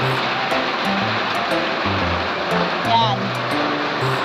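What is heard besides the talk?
rain falling at midday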